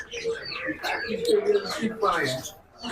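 Birds, including budgerigars, chirp and call in a chicken and bird shop in Mirpur, Dhaka, mixed under steady nearby conversation between people throughout.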